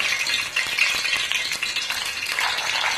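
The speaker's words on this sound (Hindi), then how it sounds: "इसमें 3 चमचे मैं ऑयल डाल लूंगी और इसमें बड़ियाँ जो है इनको हल्का फ्राई करूंगी" Wadiyan, sun-dried lentil dumplings, frying in about three spoons of oil in a pan over a stove, giving a steady, close, continuous bright sizzle with light crackling and no talk.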